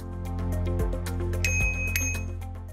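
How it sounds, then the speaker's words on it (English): A bicycle bell on the handlebar of a Velotric Packer 1 e-bike rings twice with bright, short metallic dings over sustained, tonal background music. "Install the bell onto the handlebar and tighten the bolt."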